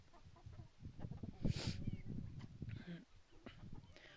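Minorca chickens and roosters clucking at close range with a rooster-like squawk midway, mixed with background voices and farmyard bustle.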